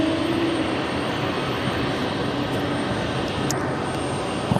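A Lufthansa Boeing 747-400 at JFK sends out a steady, broadband jet engine roar that holds even and loud for the whole stretch, with no voices over it.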